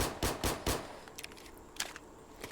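FN Five-Seven pistol fired in Fallout 4, four quick loud shots in rapid succession followed by fainter, scattered follow-up reports.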